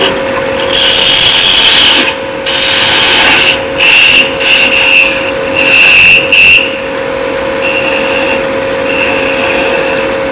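A wood lathe turns a wooden scoop while a tool cuts the spinning wood in repeated short passes, with a steady motor hum underneath and loud, close scraping bursts that start and stop.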